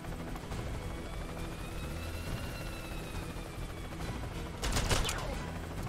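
Video game helicopter drones steadily with dense gunfire and a loud burst near the end, all blended into a continuous busy mix.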